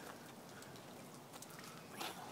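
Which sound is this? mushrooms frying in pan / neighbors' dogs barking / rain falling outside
rain falling outside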